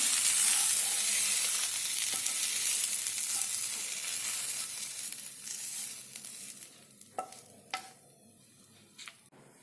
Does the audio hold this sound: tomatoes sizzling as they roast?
yes